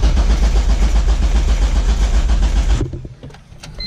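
A Honda Civic engine cranks over in a loud, rapid, steady churning whir for several seconds, then cuts off abruptly, leaving faint clicks and quiet.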